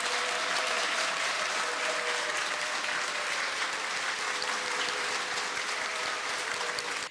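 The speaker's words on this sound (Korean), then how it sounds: "오늘 이 자리에서 제일 큰 박수를 받으셔야 될 분이 아닌가 싶은데요" Audience applause at a university president's farewell ceremony in a hall, a sustained, even patter of many hands clapping, moderately distant and steady for several seconds.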